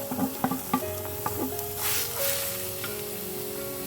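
Chhana (cottage cheese) stirred in a hot kadai on a gas flame, with a few scraping knocks of the spoon at first, then a soft hiss and sizzle settling into quieter stirring, close and alone.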